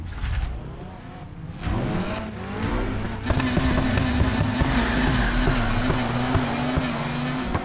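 A race car engine in Need for Speed Heat revs and accelerates through a steady loud drone, with gear shifts and a sustained high whine as the car pulls away.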